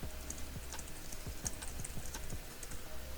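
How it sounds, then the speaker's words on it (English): Steady typing on a computer keyboard, a fast run of light clicks and taps at moderate level with no voice over it. "So we're just gonna type the text"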